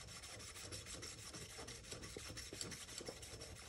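A metal file rasps steadily against a thin jaw harp reed as it is sharpened to an edge, a continuous close scraping texture with no talk.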